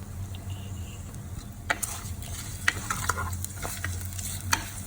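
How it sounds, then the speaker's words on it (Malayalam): Green chili, curry leaves, garlic and ginger being sautéed in a pan, a low steady sizzle with scattered scraping stir strokes, close and fairly quiet. "നമുക്കിതിലേക്ക് ചേർത്ത് അതിൻ്റെ പച്ചമണം മാറുന്നത് വരെ ഒന്ന് വഴറ്റിയെടുക്കാം"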